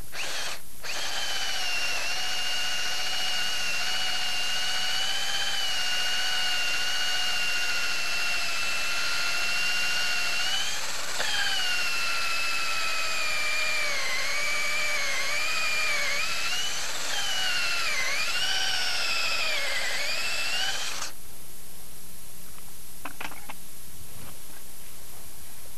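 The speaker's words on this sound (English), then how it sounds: "we're going to cut the second tenon" A drill-driven tenonizer cuts a round tenon on the end of a log for log furniture, a loud, steady, high-pitched whine held close for about twenty seconds, its pitch wavering under load before it stops abruptly.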